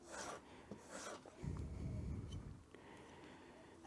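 Strokes of a Luban replacement hand plane blade being lightly stropped on its bottom edge, a soft scraping rasp that swells to a denser rubbing burst midway, then eases off.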